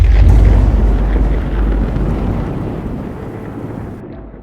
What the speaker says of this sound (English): The hail began to fall, and the thunder started to roar.